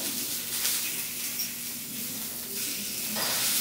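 Coriander-crusted ahi tuna sizzles steadily in a hot pan after being flipped, a continuous close frying hiss with no voices over it.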